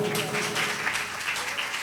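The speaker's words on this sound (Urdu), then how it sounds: "اپنے لیے پرزور تالیاں بجائیں" A church congregation at a Sunday service claps loudly together, a dense, rapid patter of many hands that carries on without letup through the short moment.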